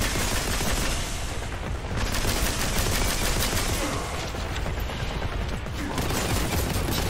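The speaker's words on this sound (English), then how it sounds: "I missed with that grenade, by the way." Dense, continuous gunfire and explosions in the video game Warhammer 40K: Boltgun, with rapid bursts and booms blending into a loud, unbroken barrage that lasts the whole stretch, with no speech.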